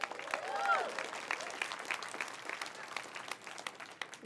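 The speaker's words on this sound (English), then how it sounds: "Big round of applause for opting into something special" Applause from an audience at a business presentation, steady clapping with some cheering tones early on, moderately distant and fading slightly toward the end.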